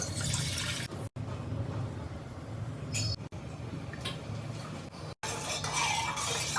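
A steady stream of water gushes into a pot, a continuous rushing splash with a couple of brief clinks along the way.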